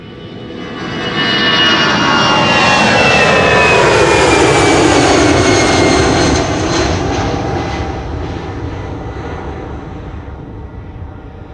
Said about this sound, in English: EasyJet A319 outbound to London Luton